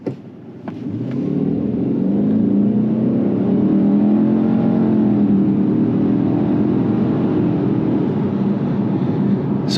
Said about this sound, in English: So I'm going to accelerate from a standstill so you can see what the CVT is all about.